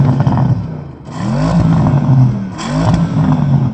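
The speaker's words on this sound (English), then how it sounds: "Go on, rev at the Porsche." A Porsche Panamera Turbo engine revs hard against its 4,500 rpm soft limiter. Repeated close, loud rising-and-falling revs sound over steady engine rumble.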